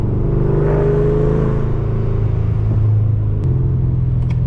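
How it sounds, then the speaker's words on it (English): A Chevrolet Camaro ZL1 with loud exhaust rumbles and revs in a deep, steady drone, swelling slightly as the engine pulls, heard close from inside during an evening drive. "this car sounds beautiful"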